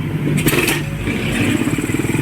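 A motorcycle engine idles loudly nearby with a steady rhythmic putter, a couple of clanks early on.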